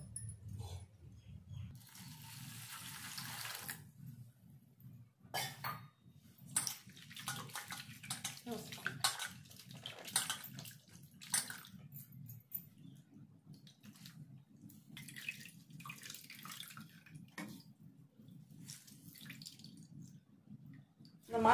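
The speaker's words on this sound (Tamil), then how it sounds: "இதுக்கப்புறம் தண்ணி ஊற்றி அலசி புளிஞ்சி எடுத்துக்கலாம்" Soaked potato and carrot pieces get rinsed in water by hand, with steady sloshing and splashing, irregular drips and pours running throughout at close range.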